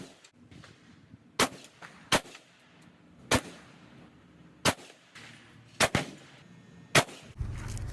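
AR-15 rifle shots crack out one at a time at irregular intervals, about eight sharp, loud reports in total over a quiet background.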